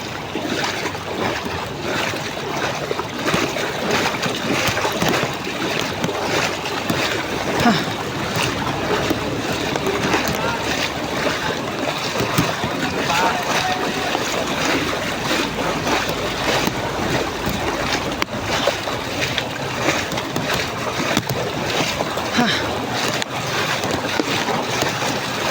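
A motorcycle pushes through deep floodwater, with steady churning splashes and sloshing waves heard close and continuous, and gusts of wind noise hitting the microphone throughout.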